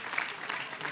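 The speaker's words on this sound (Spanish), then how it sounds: "Un aplauso para ella." Brief burst of audience applause for a 19-year-old singing contestant at a Factor X Bolivia audition, a dense, even wash of many hands clapping.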